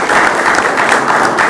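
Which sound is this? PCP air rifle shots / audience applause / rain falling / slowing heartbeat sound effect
audience applause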